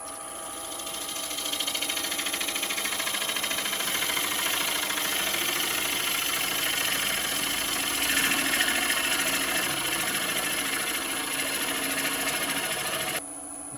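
Yew turning on a wood lathe while the tool bevel rubs across the workpiece, a steady whirring motor hum with a faint rubbing hiss over it, continuous and close, stopping abruptly at the end.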